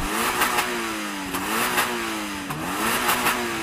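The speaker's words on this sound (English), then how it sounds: "So I'm going to rev up this GR86." A Toyota GR86 engine revs up and down repeatedly, its pitch climbing and falling in several surges, loud and close with no talk over it.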